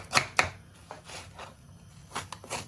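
Lamb or vegetables for a lamb karahi are chopped on a board in a home kitchen, giving a few sharp, close knife knocks spaced unevenly over quiet background noise.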